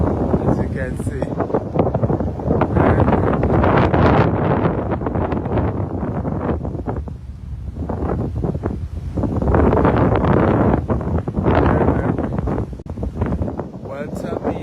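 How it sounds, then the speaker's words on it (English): Strong wind blows by the water, buffeting the microphone in a continuous loud rush that swells and eases, with a person talking over it. "It's a beautiful afternoon here, and I'm visiting for the first time, and it's very, very windy."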